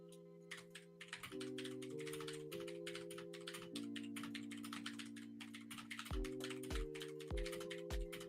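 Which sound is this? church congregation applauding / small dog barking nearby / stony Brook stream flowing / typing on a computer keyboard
typing on a computer keyboard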